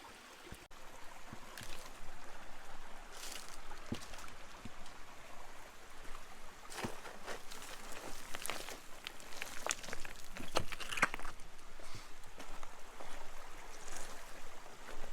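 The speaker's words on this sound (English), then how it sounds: "running water," Running water of a stream over loose rocks in the desert habitat of spiny lizards, a steady close trickle and gurgle lasting throughout with scattered small splashes.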